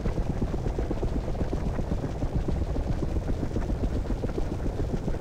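A helicopter in the DCS World flight simulator game drones with a steady, loud, low rotor chop and engine whine that continues unchanged throughout, with no talking.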